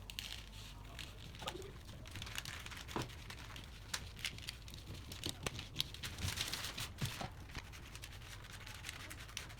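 Scissors cut gently through a paper gown pattern, giving soft, steady snipping and crinkling paper sounds, close and fairly quiet, with no talk.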